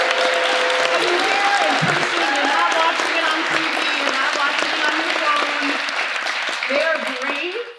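A theater audience at a high school playwrights' showcase applauding loudly and continuously, with cheers and whoops rising over the clapping and voices mixed into the crowd.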